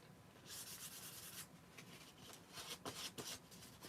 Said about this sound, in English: I'm currently doing the refined sanding, so I'm trying to like refine the edges